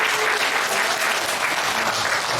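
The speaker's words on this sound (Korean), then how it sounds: "박수로 환영하겠습니다." A church congregation at a Christmas thanksgiving service claps in a warm, continuous round of applause that stays steady and fairly close throughout.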